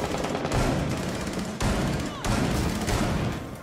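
Heavy automatic gunfire fills a Rainbow Six Siege terrorist hunt match, with dense, continuous rapid bursts broken by brief pauses, loud and close throughout.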